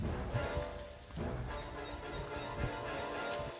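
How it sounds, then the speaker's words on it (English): Rain falling on a forested Appalachian Trail section, a soft steady patter with occasional louder drops and footsteps, fairly faint. "so it's raining for real now"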